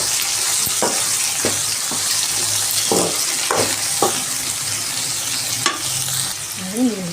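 Okra frying in a pan with curry leaves, masala and coriander powder, a steady broadband sizzle running throughout while a utensil stirs with several distinct scraping clacks, close and fairly loud.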